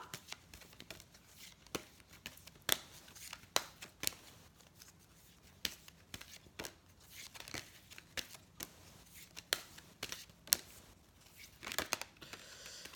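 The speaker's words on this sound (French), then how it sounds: "je vais tirer une petite carte des huiles essentielles pour voir quelle huile pourrait vous aider" Cards from an essential oils deck are shuffled and handled, giving a string of soft, close flicks and papery rustles with sharper snaps scattered irregularly throughout, with no talking.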